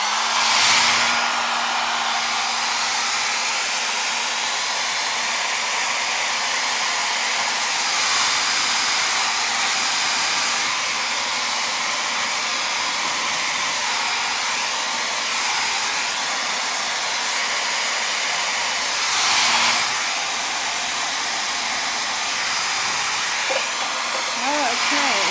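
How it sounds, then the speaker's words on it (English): A hair dryer runs on its low setting at an arts and crafts session, a steady broadband whoosh sustained for the whole stretch with slight swells, close and continuous, with no talk over it. "So I'm going to turn the blow dryer on low."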